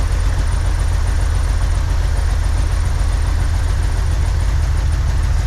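A 1963 Corvair engine idles with both chokes disconnected and wide open, a loud, close, steady low rumble with an even throbbing pulse throughout, continuous and without voices.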